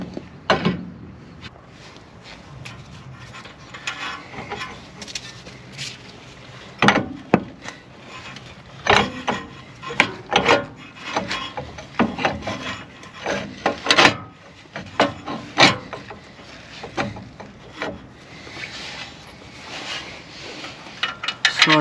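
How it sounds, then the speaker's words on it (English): A new Lemforder control arm is worked onto the steering knuckle of a 2016 BMW X5, with close metallic clunks, knocks, scrapes and rattles of parts and tools in irregular bursts over a low background hum. "We're going to first put it on the knuckle here."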